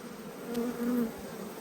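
Honey bees buzz close by during a hive inspection, a short nasal drone swelling briefly twice over a soft hum of the colony.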